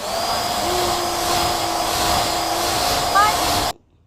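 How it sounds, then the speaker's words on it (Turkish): A hair dryer blows with a steady whining hum at a hairdressing play session, loud and close for several seconds before cutting off abruptly near the end. "Al bakalım saç kurutma makinesi."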